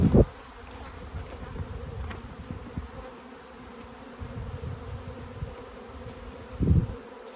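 Honeybees drone steadily at a drone-laying colony hive, a dense close buzz that runs throughout with a couple of louder thumps near the start and end.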